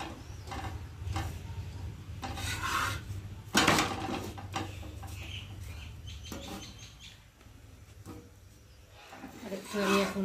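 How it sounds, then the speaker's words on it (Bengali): Flour dough is dry-roasted in a pan without oil for a coriander chutney, with metal spatula scrapes and pan clatter in irregular bursts while a voice talks intermittently nearby. "তেল দেওয়ার আগেই ভালো করে ভেজে নেব।"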